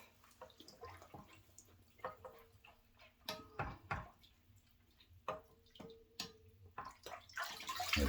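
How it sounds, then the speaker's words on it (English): Washcloth wrung and rinsed in a bathroom sink while preparing for a razor shave, giving close wet drips, splashes and squelches in scattered bursts against quiet room noise. "rinse out the washcloth."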